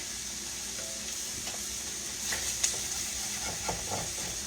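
Flour being stirred into hot fat left from searing a shoulder roast to start a gravy, giving a soft continuous sizzle with occasional light scraping taps of a utensil in the pan.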